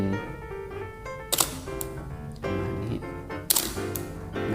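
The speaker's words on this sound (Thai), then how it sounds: "เสียงชัตเตอร์นะของ OM1 OM10" Shutter of an Olympus OM-10 film camera fired several times, sharp mechanical clicks with a metallic snap, close and distinct over a quiet room hum.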